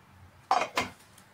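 A lid clatters onto a steel mixer grinder jar holding roasted spices, two quick close metallic knocks in an otherwise quiet kitchen.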